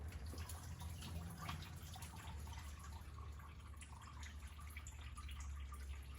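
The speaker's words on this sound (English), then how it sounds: "just stream of antifreeze running down the shop floor" Antifreeze drips and trickles steadily from a blown-up small-block engine onto a shop floor, a faint continuous liquid patter over a low hum, with no voices.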